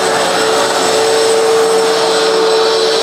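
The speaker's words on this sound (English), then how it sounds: "This vacuum really, really grooms the carpet well." Bissell CleanView Reach upright vacuum cleaner running steadily on carpet, a loud continuous motor whine with a fixed high tone, unbroken and alone throughout.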